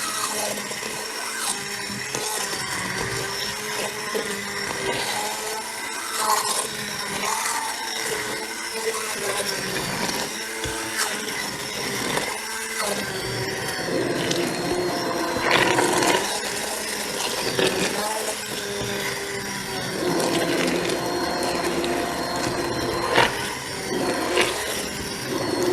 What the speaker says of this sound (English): now we're going to use the immersion blender